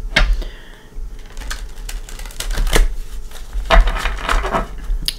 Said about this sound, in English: I am going to give them a couple shuffles.